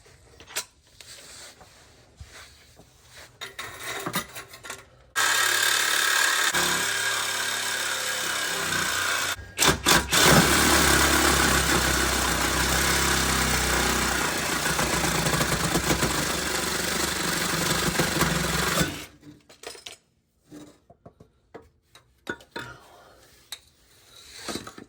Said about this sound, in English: I'll go grab a Sawzall and get back at it